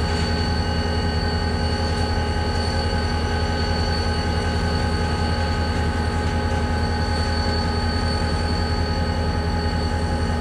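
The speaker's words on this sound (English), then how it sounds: "an EMD GP60 originally built in the 1990s by the Texas-Mexican Railway." A freight train hauled by an EMD GP60 diesel locomotive rumbles steadily past with a deep diesel drone and clattering wheels, loud and continuous throughout.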